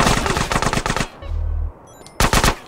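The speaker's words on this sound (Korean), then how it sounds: "장님인데 총을 쏜다고?" Gunfire in the video game GTA San Andreas: rapid bursts of automatic shots, a pause with a brief low hum, then another loud burst, all close and sharp.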